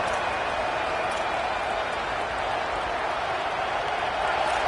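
Stadium crowd in the College Football 27 video game roaring loudly during a fourth-down play, a dense continuous wall of cheering and noise that holds steady throughout, with an announcer's voice mixed in.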